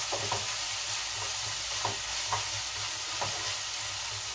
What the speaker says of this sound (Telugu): కరివేపాకు కూడా కాస్త వేగిన తర్వాత